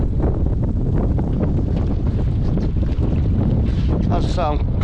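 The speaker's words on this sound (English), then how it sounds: "Quite breezy." Strong wind buffets the microphone aboard a fishing boat on Southampton Water, giving a loud, constant low rumble and roar that never lets up.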